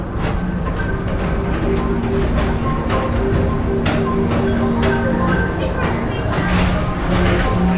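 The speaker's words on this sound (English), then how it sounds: "your express train keeps on rolling through the future" A PeopleMover ride vehicle at a Disney park rumbles and clatters steadily along its track, with people talking over the continuous mechanical noise.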